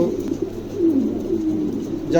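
Soft, low cooing of King pigeons repeats close by over a quiet background, a gentle rolling murmur.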